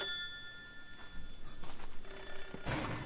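An old telephone bell rings in the Japanese horror video game Hollow Cocoon, shrill and repeating, sounding alone with faint thuds and room noise and no talk over it.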